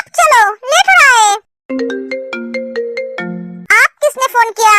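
A phone ringtone plays a clear, loud electronic melody of steady plucked tones for about a second and a half, with voices talking just before and after it.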